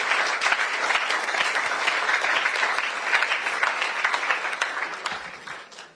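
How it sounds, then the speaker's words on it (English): Audience at a gathering gives a warm round of applause for a speaker, brisk even clapping from a sizable room that tapers off over the last second. "give him a round of applause"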